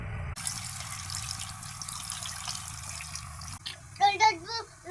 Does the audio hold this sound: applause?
no